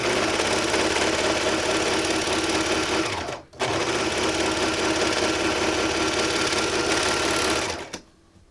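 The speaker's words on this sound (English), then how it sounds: "I'm over here at my serger, and I'm just going to run the raw edge right along the side" Serger sewing along the raw fabric edge of an outdoor throw pillow, a loud, rapid mechanical whir that runs continuously, stops briefly, then starts again and winds down near the end.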